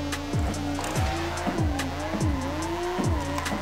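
Tires squeal while a car drifts in a sim racing game, with a revving engine behind them: repeated pitch-swept squeals and throttle blips come in a steady rhythm, loud and close.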